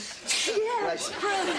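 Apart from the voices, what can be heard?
sneeze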